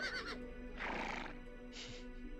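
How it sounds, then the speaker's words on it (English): A horse in the video game Ultima Online Outlands neighs in a few quick whinnying bursts, faint and a little distant, with no talk over it. "You got a horse. I got a horse."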